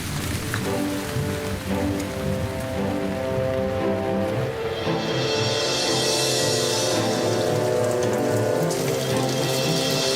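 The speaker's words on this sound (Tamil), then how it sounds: "நம்ம வேலைய இந்த மழை கெடுத்துரும் போல இருக்கே." Steady rain pours down through the whole stretch over a dense background of music-like tonal layers, with a brighter hiss of falling water swelling in the second half.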